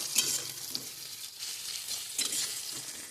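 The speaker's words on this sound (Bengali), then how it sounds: "আদা কুচিটা দিয়ে কিছুক্ষণ নাড়বো" Chopped ginger being stirred into onions frying in a pan, a steady broadband sizzle with a few scraping stirs of the spoon, close and fairly loud, no voices.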